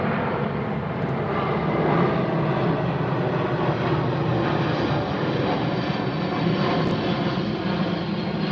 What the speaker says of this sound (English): We're gonna let this plane go over.